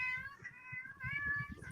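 A cat meows in a long drawn-out, wavering cry with a hollow echo, two sustained calls in a row, faint against low background rumble.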